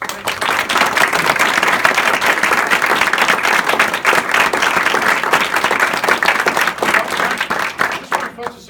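Audience at a HOYA Vision Care event applauding to welcome Barney Dewar, steady loud clapping from a sizeable crowd that holds for several seconds and begins thinning at the end.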